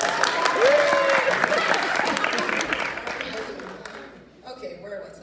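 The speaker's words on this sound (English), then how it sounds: "Give a round of applause." An audience at a live Voice of Eastmont singing show breaks into sustained applause that swells at first and then slowly fades, with scattered voices and cheers over it.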